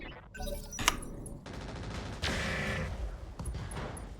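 Weapons fire from mechs in the Roguetech mod of BattleTech, a dense burst of rapid shots and booms with a sharp crack near the start and a sustained heavier volley later, loud and continuous throughout.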